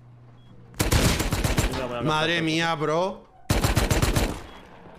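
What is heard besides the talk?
gunfire in video game Rust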